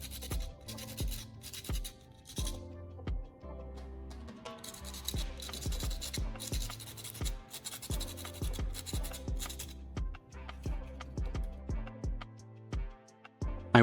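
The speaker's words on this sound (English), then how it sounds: "I use water and sandpaper to clean the battery terminals." Wet sandpaper scrubs the metal terminals of a small watch battery in short, close scratchy strokes. Each stroke is separated by brief pauses with soft taps, and the sequence holds a steady stop-start rhythm.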